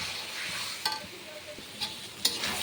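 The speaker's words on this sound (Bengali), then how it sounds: "নাড়িয়ে নেবো ভালো করে" Taro leaves and shrimp being stirred in a pan on the stove give a soft, low sizzle with a few scraping clicks from the spoon, fairly quiet and close, with no talk.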